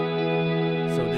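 An electronic dance track plays its drop with reverb placed before sidechain compression, giving a dense, sustained chordal wash that pumps slightly, loud and continuous.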